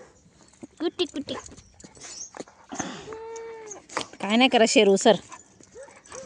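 Puppies, a litter of four, whine and yip in high, wavering cries between and under a woman's close, steady talking.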